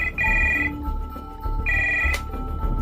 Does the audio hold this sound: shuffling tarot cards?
no